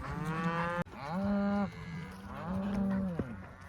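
Cattle in a pasture letting out several close, drawn-out moos in succession, each a low, bellowing call with rising and falling pitch, heard clearly with no talking.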